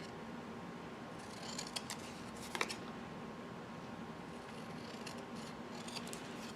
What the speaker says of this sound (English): So I'm just gonna trim this down.